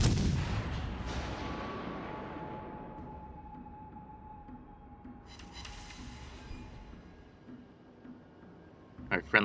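A battleship fires naval guns in World of Warships: Legends as a single heavy boom that trails off into a long, fading rumble. A sharper burst of shots follows near the end.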